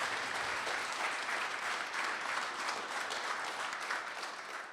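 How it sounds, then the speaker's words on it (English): An audience at a conference breakout session on sport, art and technology applauds a panel, even sustained clapping from a moderately sized room, fairly soft and continuous with no speech over it. "Let's have a round of applause for our fabulous panel."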